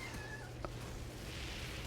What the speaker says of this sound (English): my cat's being annoying